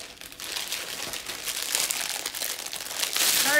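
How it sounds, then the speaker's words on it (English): Plastic candy packaging crinkling steadily and close up for several seconds, a continuous rustle that grows slightly louder toward the end. "Sorry for the crinkling."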